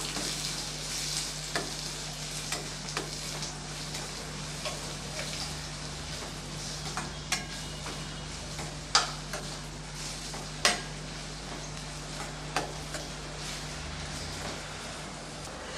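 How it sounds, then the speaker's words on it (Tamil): Onions sautéing in a pan for an egg masala gravy, a soft continuous sizzle under a low hum, punctuated every second or two by light spatula taps and scrapes, two sharper clinks standing out midway. "நல்லா வெங்காயம் செவக்க வதக்கி விட்டுக்கலாம்"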